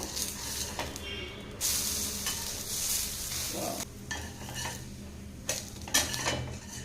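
Corn rava paniyaram and uttapam being flipped in a hot pan: a steady sizzle broken by several sharp metal clinks and scraping bursts from a utensil against cookware, close and fairly loud.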